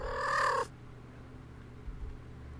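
A single loud, drawn-out cat meow at close range, sharp and insistent, cutting off abruptly and followed by quiet room tone with a faint soft bump.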